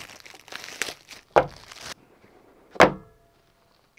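Packaging on a Xiaomi 15 phone box crinkles and rustles up close, with two sharp crackling bursts of plastic or paper amid quieter handling.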